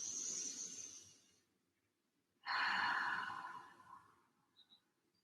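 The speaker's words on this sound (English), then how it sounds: "Slowly exhale out through the mouth." Slow breathing through the mouth during a yoga session: a soft, breathy rush fades out, then a longer, fuller exhale follows after a pause. Both are close and gentle, with faint quiet ticks at the end and no speech.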